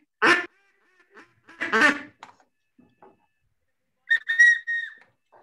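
A few sparse, separate duck calls, some nasal honks and a whistled note, fairly close with silence in between.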